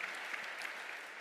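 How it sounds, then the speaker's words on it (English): A conference audience applauds a speaker, a brief, steady burst of clapping heard faintly from across the hall. "a huge round of applause"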